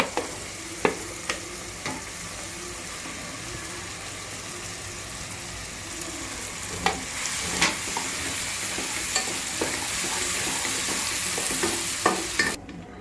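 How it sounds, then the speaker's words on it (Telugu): Ridge gourd frying in a pan makes a constant close sizzle, broken by sharp scraping knocks as a spatula stirs it every second or so, with the hiss growing slightly louder later. "బీరకాయ వేసేద్దామండి."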